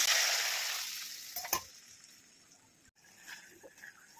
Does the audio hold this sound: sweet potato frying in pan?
yes